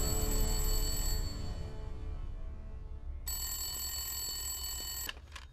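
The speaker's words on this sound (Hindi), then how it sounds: "एक फोन आया।" A telephone rings with a bright electronic trill, pauses, then rings again, close and clear over a low background rumble.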